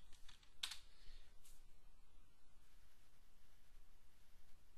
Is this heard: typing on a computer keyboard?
yes